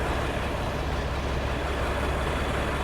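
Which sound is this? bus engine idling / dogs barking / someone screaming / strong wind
bus engine idling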